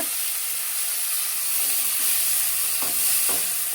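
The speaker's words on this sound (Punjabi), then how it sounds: "ਤੇ ਨਾਲ ਹੀ ਪਾਤਾ ਆਪਾਂ ਨੇ ਪਿਆਜ਼ ਹੁਣ ਇਹਨੂੰ ਬ੍ਰਾਊਨ ਹੋਣ ਤੱਕ" Chopped onions frying in hot oil with cumin, a dense, steady sizzle throughout, close and loud, with a couple of faint knocks of a utensil near the end.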